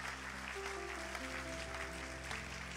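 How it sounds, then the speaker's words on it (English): Soft, even applause from a church congregation during a live Sunday service, low in level and steady, with sustained tones humming underneath. "Let's give them one more round of applause"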